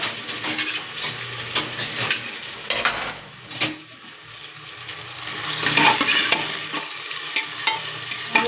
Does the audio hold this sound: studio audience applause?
no